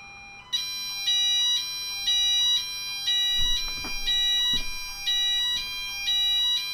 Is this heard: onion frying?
no